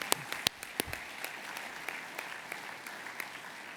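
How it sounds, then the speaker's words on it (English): Applause from an event audience honoring award recipients at a legacy ceremony, a steady patter of many hands clapping with a few sharper claps standing out, moderately distant and continuous throughout. "let's give them a round of applause."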